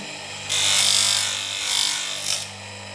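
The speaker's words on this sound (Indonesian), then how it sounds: "Di sisi luarnya juga kita harus amplas supaya halus" Sandpaper scrubs the outer edge of a handmade copper and brass ring in three close rasping strokes, the first long and strong, the next two shorter and fading, with no talking.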